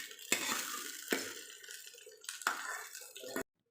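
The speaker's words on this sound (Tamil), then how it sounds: "இப்போ இந்த தாளிப்பை நம்ம கூட்டோடு சேர்த்துடலாம்." A tempering is stirred into a ridge gourd kootu in a pot, with a few distinct scraping, clinking stirs over a soft wet, sloshing bed of cooking sounds. No one speaks.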